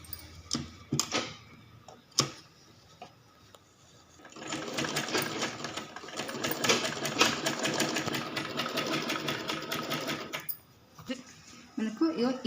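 A sewing machine stitches the fabric of an umbrella skirt in one long, steady, close run of rapid mechanical chatter after a few scattered clicks and handling knocks; someone speaks briefly around the stitching.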